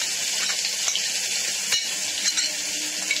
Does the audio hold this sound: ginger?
yes